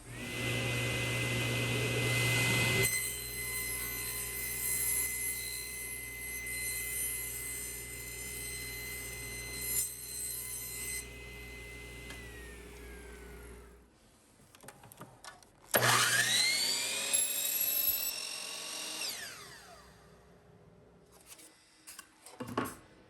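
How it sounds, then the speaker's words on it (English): A table saw cuts through a sheet of cardboard, its steady motor drone running for several seconds before spinning down, followed by a louder rising whine as the blade bites through the cardboard, close and strong. "So I'm gonna use my table saw because why not?"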